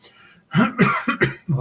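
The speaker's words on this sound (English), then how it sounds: "Been having this cough for a couple of days." A burst of several harsh coughs in quick succession from a person getting sick, close and loud, with a short pause before a final cough.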